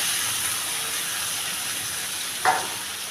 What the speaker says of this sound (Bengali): এখন আমি ম্যারিনেট করা মাংসটা দিয়ে দেব। দিলাম ম্যারিনেট করা মাংসটা